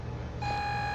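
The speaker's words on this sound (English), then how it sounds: "So that fridge is still beeping." A fridge in the video game GTA beeps, a single sustained electronic tone that starts partway through and holds steady above a low background hum.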